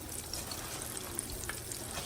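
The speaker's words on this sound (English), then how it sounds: "Our grease is hot, as you guys can hear the sizzle." Coated chicken legs fry in hot grease, a continuous close sizzle with light crackling pops and no talking.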